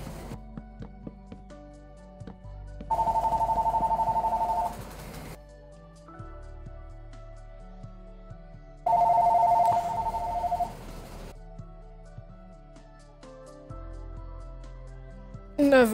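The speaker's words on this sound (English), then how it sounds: "Sorry if you guys heard the phone ringing." A telephone rings in a house, two separate bursts of electronic ringing several seconds apart, heard over quieter video-game music and sounds.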